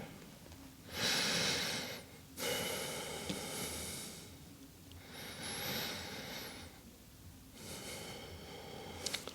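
Slow, deep breathing during a yoga stretch, three long airy inhale-exhale cycles heard up close, each lasting over a second with quiet pauses between and no talking.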